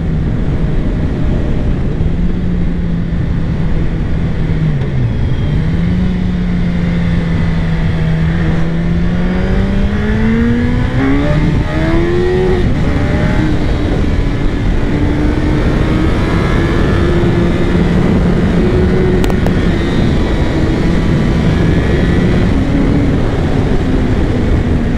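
A Suzuki Hayabusa Gen 3 GSX 1300 R motorcycle engine pulls hard on good asphalt, its loud close roar rising in pitch through gear changes with steady wind rush.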